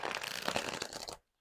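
A new tarot deck being riffle shuffled, a quick run of crisp card flutters and snaps lasting about a second before cutting to silence.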